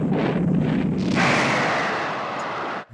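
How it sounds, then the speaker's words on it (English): A spaceship explodes in the film Alien (1979), a loud roaring blast that swells into a rushing, broad rumble for about three seconds before cutting off abruptly. "What kind of explosion was that?"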